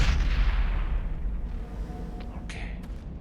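Rocket fire and explosions in the Mass Effect video game: a heavy rumbling blast fading into low, sustained booming, followed by a few sharp cracks and whooshes.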